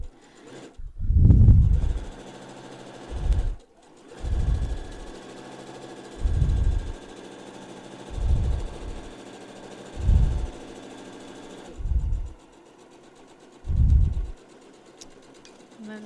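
A sewing machine stitching a seam on a reversible fabric face mask with ties, running in short repeated bursts of a low motor hum separated by pauses, close by, with no talking.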